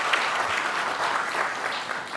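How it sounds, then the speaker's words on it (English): A conference audience applauding the panelists, a dense and steady burst of many hands clapping in a large room, fairly loud, with no speech over it. "Can we give the panelists a round of applause?"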